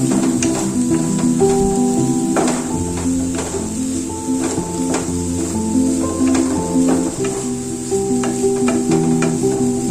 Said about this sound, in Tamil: இப்போ தேங்காவை நல்லா மிக்ஸ் பண்ணிக்கணும்